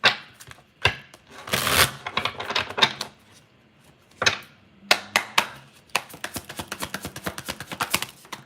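Tarot cards shuffled on a table give bursts of crisp papery slaps and flutters, then a quick, even riffle of light ticks near the end, close and fairly loud with no voices.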